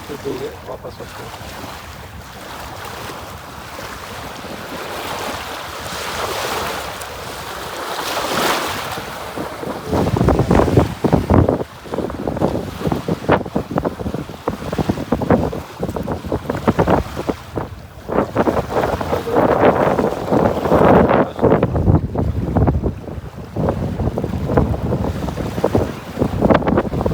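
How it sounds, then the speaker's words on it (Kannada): Wind and crashing waves at a seashore, a loud rough roar of gusting wind buffeting the microphone over breaking surf that swells and surges repeatedly, close and continuous. "ಚೆನ್ನಾಗಿದೆ ಗಾಳಿ, ಹಾಗೆಯೇ ಕ್ರಾಶಿಂಗ್ ವೇವ್ಸ್"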